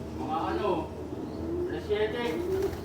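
Pigeons in a loft coo softly in the background, a few low warbling calls rising and falling beneath someone speaking continuously over them.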